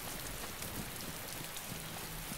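Rain falls in the survival video game DayZ, a dense, even hiss of drops striking surfaces that runs unbroken throughout with no talking.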